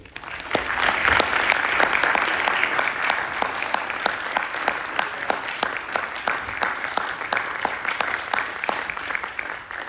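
Sustained audience applause welcoming lecturer Stephen Hull to the stage at an architecture lecture, dense and steady clapping filling the hall throughout without voices.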